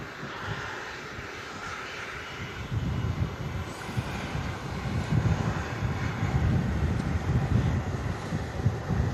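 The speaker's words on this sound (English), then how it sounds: "this Air Transat taxis past us at the runway visitor park" An Air Transat airliner rolls past a runway visitor park at Manchester Airport on a gusty day, its engine roar swelling from a low rumble to a steady, louder drone, with wind buffeting the microphone.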